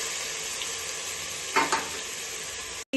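Masala sizzles steadily in oil in a pan for a double beans rice bath, a close, even frying hiss with a brief stirring scrape in the middle and a sudden cutoff near the end.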